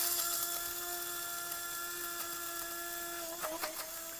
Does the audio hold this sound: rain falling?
no